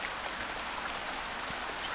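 Steady rain in the farming video game Pumpkin Days, a dense, even hiss of falling drops with no pauses, heard alone without talking.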